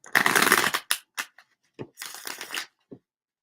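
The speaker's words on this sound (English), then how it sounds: "I'm going to shuffle up the cards for" Tarot cards shuffled close up in a quiet room: a long papery riffle, then a few short shuffles and taps, another burst of riffling and a final soft tap, with no talking.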